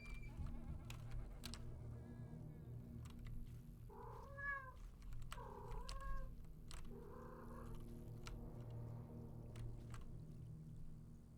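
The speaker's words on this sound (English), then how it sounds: "you're just gonna run away and meow at me" A cat meows three times in a row, clear and fairly close, near an outhouse, over a steady low hum of background noise.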